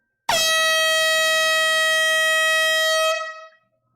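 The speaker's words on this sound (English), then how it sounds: "let's blow the air horn for Gregory." An air horn gives one loud, close blast lasting about three seconds, a sustained brassy honk that starts abruptly and then trails off into silence.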